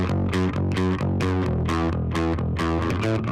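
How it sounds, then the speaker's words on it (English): A bass guitar played through a Rat distortion emulation plugin gives a gritty, buzzing tone, with repeated punchy notes in a quick rhythmic riff and no talking. "which is an emulation of the rat distortion"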